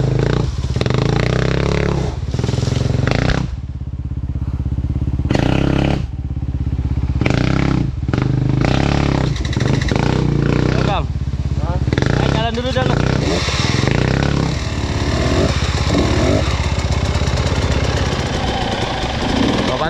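An enduro motorcycle engine revs hard on a race course, loud and close, with rough throttle bursts and brief dips, and people talking over the engine noise.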